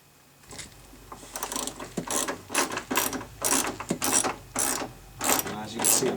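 A tiny 1/4 inch drive socket wrench ratchets mounting nuts onto a car side mirror, a steady run of close, crisp clicking bursts in repeated strokes.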